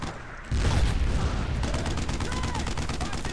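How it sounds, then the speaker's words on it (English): Heavy gunfire in the World War II shooter Brothers in Arms: Road to Hill 30, a dense, continuous rattle of rifle and machine-gun shots that erupts after a brief quieter moment and stays loud throughout, with no voices. "Heavy fire, right there."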